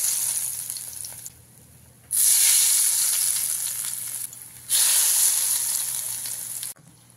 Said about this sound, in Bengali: এই গরম তেলটা নিয়ে আমের মধ্যে দিয়ে দেবো।